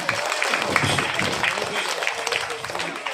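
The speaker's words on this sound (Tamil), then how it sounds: "ஜோரா கைதட்டு நல்லாரா ஜம்முன்னு" An audience claps together in sustained applause after a children's Bharatanatyam dance performance, a dense crackle of many hands with some crowd noise mixed in.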